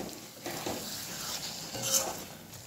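Chicken is stirred with yogurt and spices in a pan over a low flame, heard as a soft, continuous sizzle with gentle scraping of a utensil and a faint metallic clink near the end.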